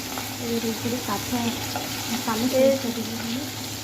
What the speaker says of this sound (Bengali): আর কিছুক্ষণ করলেই হয়ে যাবে লাল লাল করে ভাজা